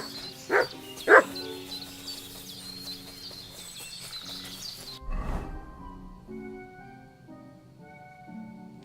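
Mutt, the dog in Kingdom Come: Deliverance II, gives two sharp barks close by over a quiet outdoor ambience with faint bird calls.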